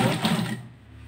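A tailor's sewing machine running a short tack stitch on a Kallidar Punjabi, a brief close whirring burst that fades out within about a second.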